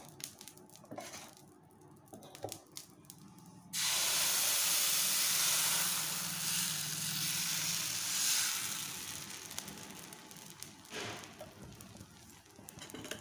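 Dosa batter for a butter sponge dosa hits a hot pan with a sudden loud, steady sizzle that swells and slowly fades, after a few quiet clinks and taps.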